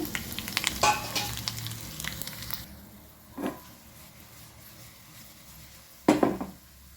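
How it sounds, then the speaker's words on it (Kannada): Mustard seeds, chopped garlic and dry red chillies are tempered in hot oil for a raw banana saaru, giving a crackling sizzle that fades to a low hiss, with a couple of short clattering bursts of stirring against the pan. "ಸಾಸಿವೆ ಹಾಕ್ಕೊಳ್ತೇನೆ ಬೆಳ್ಳುಳ್ಳಿ ಕಟ್ ಮಾಡಿ ಒಣ ಮೆಣಸನ್ನು ಹಾಕ್ಕೊಳ್ತೇನೆ"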